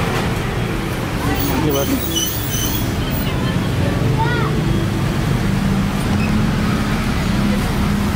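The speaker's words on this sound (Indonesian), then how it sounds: "Saya akan nyalakan motornya." A Yamaha Vixion motorcycle engine with an unstable idle, running as a steady loud broadband rumble close by with no gaps, while someone briefly speaks over it.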